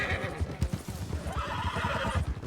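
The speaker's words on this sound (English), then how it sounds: "Sure you ought to be riding a horse, Clay?" A horse in the Red Dead Online roleplay game whinnies loudly over a quick run of clip-clopping hooves, close by, with no one speaking.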